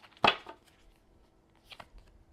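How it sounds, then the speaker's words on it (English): A deck of cards is cut and shuffled, with a sharp riffling burst near the start and two quieter, brief card snaps toward the end, close up in a quiet room. "I'm gonna cut the deck."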